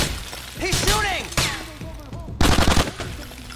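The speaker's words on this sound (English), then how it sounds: "He's shooting!" Gunfire in GTA IV The Ballad of Gay Tony, loud shots mixed with shattering and breaking debris, a rapid burst of several shots toward the end, close and intense.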